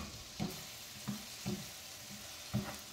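Eggs being stirred as they fry in a pan for Dominican-style eggs, with a steady low sizzle broken by four distinct scraping stirs at roughly even intervals, close and fairly quiet.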